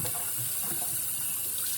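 Tap water runs steadily over Swiss chard in a sink, rinsing off vinegar, a continuous close hiss and splash without pause or speech.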